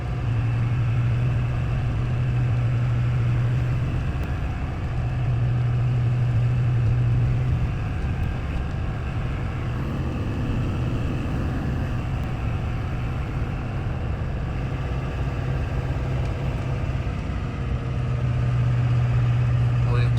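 A Duramax diesel truck pulling a big tractor on a trailer drones steadily from inside the cab while climbing Iron Mountain, a continuous engine hum with a periodic low whine, and someone speaks over it.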